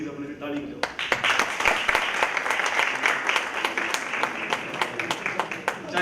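An audience at a university science festival in Patiala claps loudly for several seconds, a dense, sustained burst of applause that starts abruptly and stays close and full throughout.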